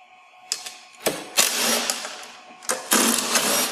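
Bolts are loosened from the plastic base of a Track N Go track unit with a power tool, which sounds in several short bursts of whirring and rattling between brief pauses.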